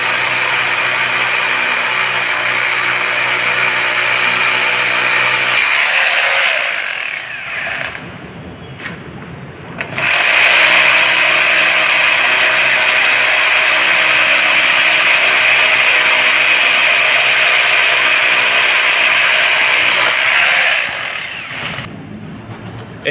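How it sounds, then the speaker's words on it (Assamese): A power drill bores holes into a broken-out concrete corner, where PVC pipes will later be set for grouting and waterproofing. The steady, loud machine drone runs continuously, drops away briefly near the middle, then returns, with no voices. "আৰু এই ব্ৰেক কৰা পৰ্চনটোত আমি বৰ্তমান ড্ৰিলিং কৰি আছোঁ।"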